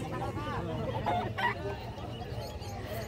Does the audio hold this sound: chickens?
yes